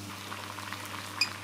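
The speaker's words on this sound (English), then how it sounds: "Nice! And it's boiling." Water boils in a pot on an induction cooker, a soft, continuous bubbling and hiss heard close and fairly quiet, with a brief sharp tick near the end.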